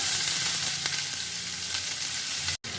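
Chopped onions sizzle steadily in hot mustard oil for a mushroom dalna, a dense close hiss that holds level and cuts out abruptly for a moment near the end; no one speaks.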